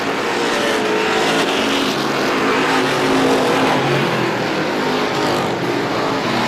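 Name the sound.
race cars battling on a race track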